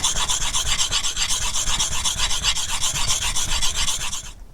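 A blade is vigorously sharpened to a convex bevel by the Grimsdale method, giving a steady rhythmic rasping scrape in fast back-and-forth strokes that stops abruptly at the end.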